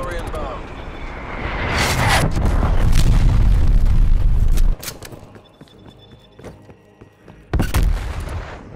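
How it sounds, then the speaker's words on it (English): Incoming artillery strike in Call of Duty: Black Ops Cold War, loud booming blasts rumbling over several seconds, then a quieter lull before one more sharp burst, with game voice announcements around it. "Artillery inbound."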